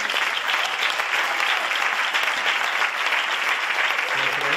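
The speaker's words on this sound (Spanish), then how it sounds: "Un aplauso." Steady, dense applause from the audience at a municipal band's Christmas concert during an award presentation, even in loudness throughout, with a faint voice entering near the end.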